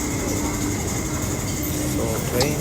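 Hong Kong MTR train pulling in, a loud close rumble of wheels and carriages with a sustained high squeal and metallic rattling, steady and continuous.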